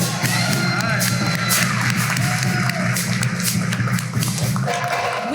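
A big indoor crowd at the 23rd Annual African American Cultural Celebration, a dense, steady roar of many voices with scattered cheers and shouts, loud and continuous throughout.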